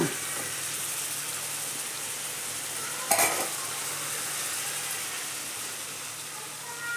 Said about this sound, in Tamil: தீயை குறைச்சிட்டேன் சிம்மில் வச்சுருவோம் மூடி வச்சுருவோம்